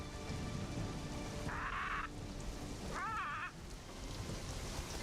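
Steady, dense jungle rain in Conan Exiles hisses on surfaces throughout, with two brief warbling electronic tones cutting in partway through.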